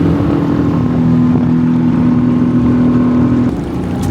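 An outboard motor pushes a dinghy through river rapids, a loud steady drone holding one pitch with rushing water and wind noise behind it, no voices.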